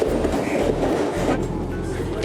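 Train pulling into a station, a steady low rumble with faint clickety-clack of wheels, close and continuous, with people talking over it.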